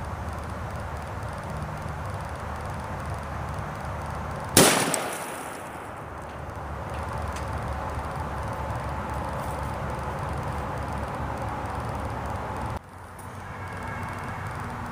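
A Federal MK 318 Mod 0 rifle round, 62-grain from a 7.5-inch barrel, is fired outdoors into a 2-inch-thick concrete slab: one sharp, loud report cracks out over steady background noise, then decays, followed later by a short clunk.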